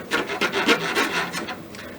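A file rasps back and forth across the wooden end of a Kibler colonial flintlock kit stock, about ten rhythmic close strokes in quick succession with no talking.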